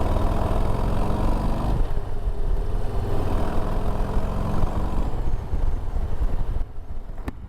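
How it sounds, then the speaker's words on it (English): A Harley-Davidson Low Rider ST motorcycle with its stock exhaust being ridden under throttle, producing a steady, loud, deep engine rumble that runs continuously and eases off slightly near the end. "see if the microphone will actually get the sound of this exhaust as I get on it here"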